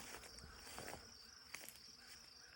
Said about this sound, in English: And now you can hear the bees.